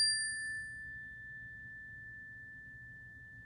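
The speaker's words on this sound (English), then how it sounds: "when I ring the bell, I just want you to listen to the sound as it fades away" A single bell rings once, a clean sustained tone that fades slowly away on its own, with a low hum underneath and no talking.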